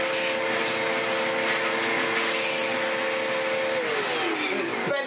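A Hoover Enigma vacuum cleaner with its upholstery tool attached runs loud and steady with a harsh whining drone, and its pitch drops near the end as the motor winds down.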